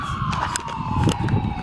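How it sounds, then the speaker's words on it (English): A siren wails steadily over road and engine noise while riding along on a motorcycle, its pitch drifting slowly downward through the short stretch. "Sirens!"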